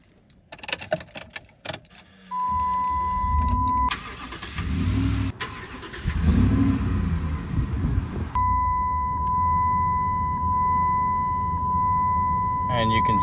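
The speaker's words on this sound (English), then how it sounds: "let's go ahead now and step inside and start it up so you guys can hear it start" A 2006 Dodge Ram SLT TRX pickup with 206k miles and its original drivetrain starts up after keys jangle and a steady chime sounds; the engine cranks, catches and settles into a smooth idle close by.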